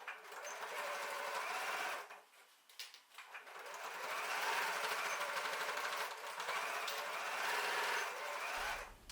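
A sewing machine stitching the corners of a tote bag with a small seam allowance, a close, fast whirring drone in long runs with a brief pause partway through.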